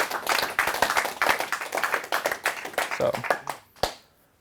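A convention audience gives a round of applause, a burst of many hands clapping close and fairly loud, uneven and thinning out before it stops near the end.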